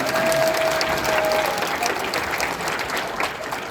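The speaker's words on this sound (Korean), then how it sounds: "자, 우리 박수하겠습니다." An audience at a talk event applauds, a dense, steady wash of many hands clapping at once that carries on without a break.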